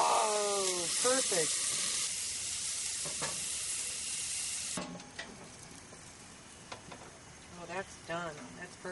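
Flank steak with a splash of mojo sauce sizzles steadily in a hot pan after flipping, with broadband frying hiss and a scrape as the meat turns; a person speaks briefly over the cooking.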